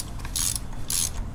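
Two short ratcheting clicks from a socket wrench tightening a spark plug in an Acura TL engine bay, close and fairly quiet over a low background hum.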